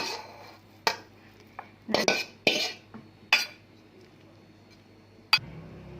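Porcelain dishes and metal utensils clink and scrape in sharp, separate knocks as stir-fried holy basil pork with giant prawns and wood ear mushrooms is scooped onto a hot serving plate, close and clear against a quiet kitchen.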